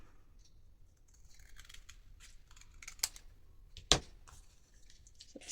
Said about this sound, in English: that burlap, and I'm going to cut it. I'm going to cut it about here.